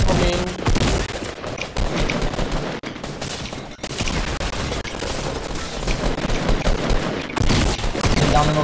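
Shotgun blasts and other gunfire in the video game Fortnite, loud and dense, with overlapping shots running almost continuously across the whole stretch and only a brief dip near the middle.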